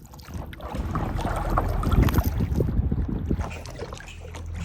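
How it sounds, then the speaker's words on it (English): Paddleboard stroking through water outdoors in French Guiana, a rough wash of splashing and wind buffeting the microphone, fairly loud and close with no talk. "the paddleboard we are using right now has been with us for a long time"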